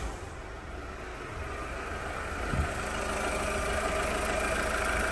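A 2012 VW Polo 1.4 engine idles with a low, even rumble throughout, broadband and constant, with a brief bump partway through.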